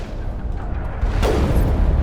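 Rocket explosions boom in the Mass Effect video game as a deep rumble swells into a sudden blast about midway, followed by a sustained roaring tail.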